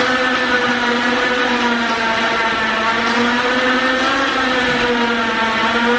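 A winch straining under load as it pulls a stuck 1991 Mitsubishi Eclipse GSX turbo AWD car, a loud steady mechanical whine with a constant pitch that wavers slightly, close and uninterrupted.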